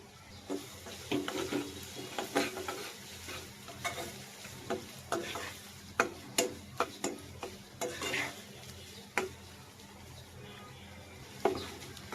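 Chopped onions with salt frying in a pan, a soft continuous sizzle broken by irregular clinks and scrapes of a spoon stirring, fairly quiet and close.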